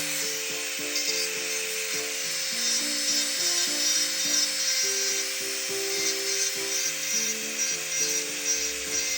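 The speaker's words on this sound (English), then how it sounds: "We start by using a sandy flame shaped drill bit to gently lift the cuticles off" Electric nail drill with a sandy flame-shaped bit working cuticles during a pedicure, a faint steady high hum with light scratchy friction and soft clicking handling noises throughout.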